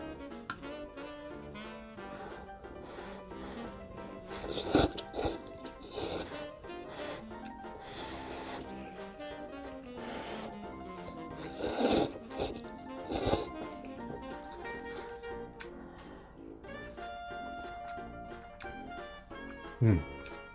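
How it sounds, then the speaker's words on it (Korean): Frozen fresh jjamppong noodles from Hongdae Choma are slurped and chewed in short wet bursts and snorting slurps at close range, under a mix of talk and faint background music. "이번엔 면을 한번 먹어보도록 할게요."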